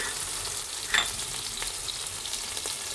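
Green curry paste frying in a pan sizzles steadily up close, broken by a few stirring scrapes and one sharper clink, with no speech.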